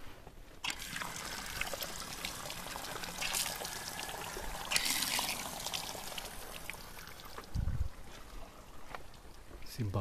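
Water trickling and pouring at an outdoor water point at Tamadaba campsite, a steady soft splashing flow running throughout, with a person talking over it.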